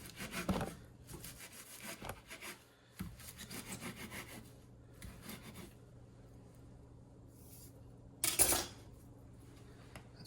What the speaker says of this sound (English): chop it up as best as I can with this knife